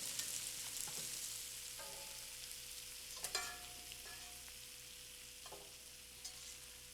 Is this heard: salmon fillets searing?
yes